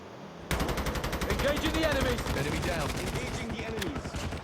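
Rapid bursts of gunfire from a battle royale video game, dense repeated shots sounding loud and close, running continuously after a brief quiet start with voices faintly underneath.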